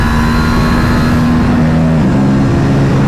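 A KTM RS 457 motorcycle engine drones steadily while riding, a loud continuous hum whose pitch shifts slightly partway through, with wind rush around it and no talking.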